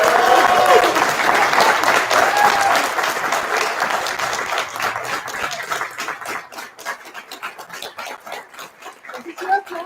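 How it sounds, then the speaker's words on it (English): Graduation ceremony applause at the SRH campus in Hamburg, with a large crowd clapping steadily. The dense clapping fades into thinner, scattered claps toward the end, and a voice is faintly audible underneath. "so a big applause to you."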